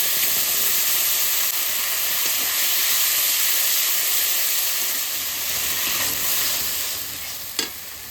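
Hand-ground spice paste of tomato, onion, cumin, coriander, dried chili and ginger, with salt and turmeric, fries in oil in a steady close sizzle and hiss, stirred now and then, with one small clink near the end and no voices.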